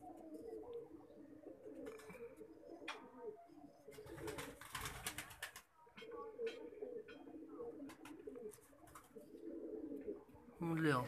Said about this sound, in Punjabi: ਅੱਛਾ ਸ਼ਾਹੀ, ਇਹ ਕਿੱਥੋਂ ਆਇਆ ਸੀ ਕਬੂਤਰ?